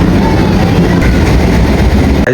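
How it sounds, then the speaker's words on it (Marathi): A train rumbles loudly close by, heavy low roar with rattling wheels passing continuously. "ट्रेन पकड़नी पड़ेगी बिकॉज ट्रेन आ चुकी है हमारी"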